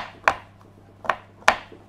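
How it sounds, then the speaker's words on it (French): A knife chopping chocolate on a board, three sharp distinct cuts spaced unevenly apart, close and crisp, with no talk. "Donc très important, hachez-le. Plus vous le hacherez fin, mieux ça sera."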